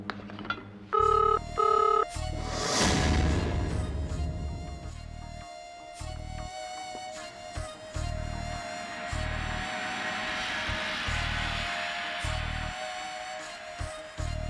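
A telephone rings indoors with a repeated electronic bell pattern, bursts pulsing at a regular pace over a music-like background score, moderately loud and steady throughout.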